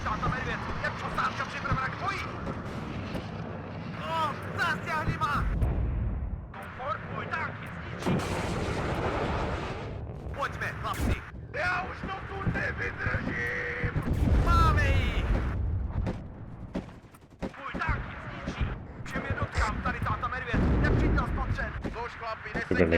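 In the video game WARNO, grenade launcher fire and other battle noise come as repeated booming blasts and rumbling explosions, dense and continuous, while someone talks over the action throughout.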